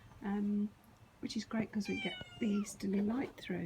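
A pet cat meows repeatedly in a garden, clear, close cries interleaved with a person talking nearby.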